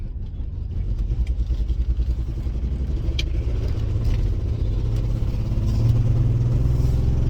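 A worn car engine from a $300 auction find idles with a misfire, its low rumble uneven and lumpy, with a faint clatter riding on top, close and continuous for several seconds.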